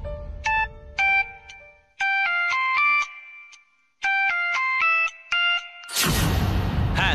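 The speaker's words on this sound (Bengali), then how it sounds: "যতক্ষণ না ফোন ধরবে আমি ততক্ষণ ফোন করব।" A mobile phone rings unanswered, repeating a bright melodic ringtone in short phrases with brief pauses, then cut off by a loud burst of noise.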